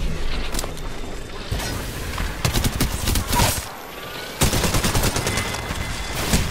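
Rapid automatic gunfire in the video game Apex Legends played on PS4, dense loud bursts of shots with a short pause midway before the firing resumes just as heavily.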